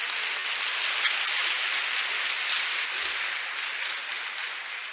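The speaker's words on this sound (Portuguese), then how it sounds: "gostaria que a igreja aplaudisse" A church congregation applauding, a dense, sustained wash of clapping from many hands that fills the whole stretch evenly at a moderate distance, with no speech over it.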